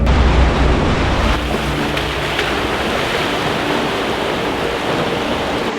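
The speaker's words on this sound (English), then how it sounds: "there's still something unnatural about driving across a river" Off-road vehicle fording a river in Iceland, a loud, steady rush of churning water and engine rumble that stays continuous and close throughout.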